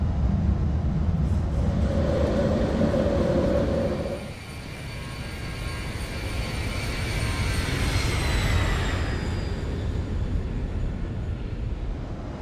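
Prime Air cargo airplane's jet engines roar steadily during the climb after takeoff, a broad loud rumble with a rising whine partway through, heard from inside the aircraft with no talk.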